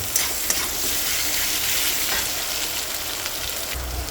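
Boiled potato pieces drop into a pan of fried garlic for potato upma, sizzling and frying steadily at close range with a few soft stirring knocks, no voices.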